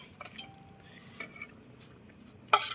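Bamboo shoot curry with red ant eggs and vegetables being stirred in a pot, faint scattered clinks and scrapes of a utensil against metal, ending in a louder sharp clatter, close by with no talking.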